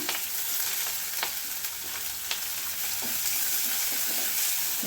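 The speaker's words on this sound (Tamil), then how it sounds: "வெங்காயம் ஒரு பாதி வெங்காயம் வெட்டி வச்சுருக்கேன், அதையும் நம்ம அதில் சேர்த்துருவோம்." Onion and ginger frying in a hot pan for rava idli, a steady close sizzle with occasional stirring scrapes and crackles throughout, with no voices.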